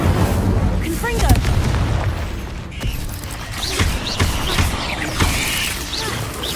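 Fire spells Incendio and Confringo cast repeatedly in Hogwarts Legacy combat, a dense run of booming blasts and crackling impacts with whooshing flares, loud and continuous throughout.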